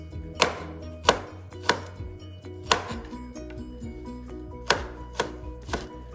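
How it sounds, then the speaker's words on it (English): Peeled garlic being finely sliced with a knife on a board, giving sharp, close, distinct chops at a steady, unhurried pace, around nine in a row with no talking. "we're just going to take and just give it some fine slices"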